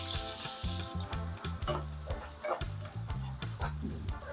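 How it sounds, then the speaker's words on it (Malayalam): Chopped onions frying in hot oil for a fenugreek-leaf and potato chapati curry, a close, steady crackling sizzle broken by repeated stirring scrapes and rhythmic pulses, with no speech. "ഇനി ഇതിനകത്ത് 2 സവാള കൊത്തി അരിഞ്ഞതേ അത് ഇട്ട് കൊടുക്കാം"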